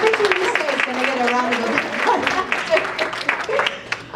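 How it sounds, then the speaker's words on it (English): An audience at an LA84 talk with a UCLA gymnastics head coach breaks into applause, a broad, continuous wash of clapping with voices carrying over it throughout. "round of applause"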